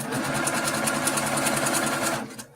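A sewing machine stitches quilt fabric pieces together in a fast, steady run of close mechanical clatter that lasts a couple of seconds before stopping abruptly, with no talk over it.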